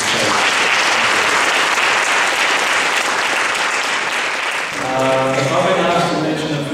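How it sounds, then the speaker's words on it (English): Loud audience applause for guest speakers at a banquet, dense clapping that fades near the end as a voice starts talking over it. "give them a round of applause as they"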